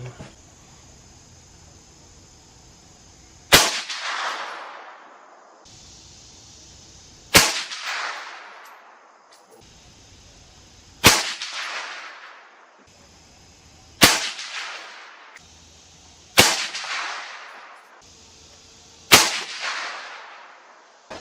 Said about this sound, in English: First one I'm testing, Remington Premier match, 69 grain.